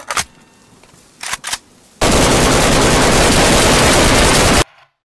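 Gunfire in the video game DayZ: a few sharp separate shots, then a loud sustained burst of rapid automatic fire lasting a few seconds before cutting off abruptly.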